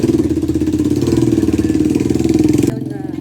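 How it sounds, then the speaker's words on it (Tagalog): A motorcycle engine idles close by with a loud, steady throbbing putter, then drops away abruptly just before the end. "Ingay naman ang motor"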